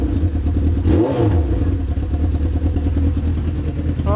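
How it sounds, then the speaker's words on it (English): A Honda Fireblade motorcycle engine, being started for the first time in ages during a garage rebuild for overheating trouble, blips up in one quick rev near the start and then settles back to a loud, clattering idle. "First time this engine's been started for don't know how long."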